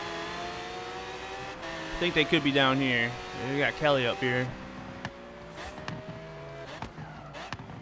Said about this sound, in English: Car sounds so good over there, man.